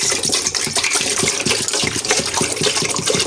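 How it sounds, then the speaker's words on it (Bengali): Rainwater pours steadily into a cooking pot on the stove, a continuous close gushing fill for cooking rice, with no talk. "পানি দিয়ে দেব।"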